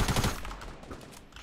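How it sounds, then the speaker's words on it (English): Rapid minigun fire in Fortnite, a dense continuous burst of shots close by that tails off slightly over its short span, with no talking. "Yeah, they're shooting a minigun."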